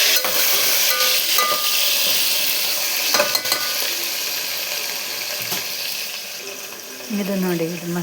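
Oil sizzling and frying in a pan for a dried fish curry, a steady dense hiss running throughout with a few clinks of a utensil, close and fairly loud.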